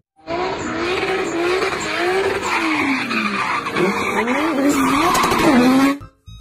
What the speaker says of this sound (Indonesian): Ini mobil balap.